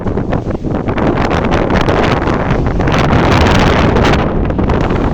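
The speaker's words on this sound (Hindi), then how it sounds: "इतनी तेज़ हवा चल रही है" Strong, steady wind roars and buffets the microphone throughout in a valley near Murree and Islamabad, loud and continuous with gusting surges, no voices.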